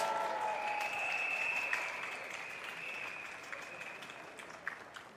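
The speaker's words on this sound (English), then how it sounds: "Give them a round of applause." Crowd at an outdoor lunchtime political rally in Singapore applauds policemen, a moderately faint, steady spread of clapping that gradually tapers off, with a faint sustained tone running through it.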